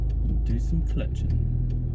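Low, steady rumble of a manual car's engine while the driver works the clutch, heard from inside the cabin under a voice talking.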